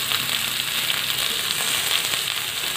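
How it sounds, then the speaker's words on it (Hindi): Tomatoes frying in hot oil for chutney give a steady, close hiss and crackle that continues without a break. "इसको हल्का फ्राई होने तक इसको हमें भूनना है।"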